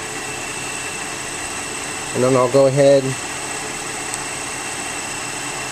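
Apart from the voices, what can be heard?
car engine idling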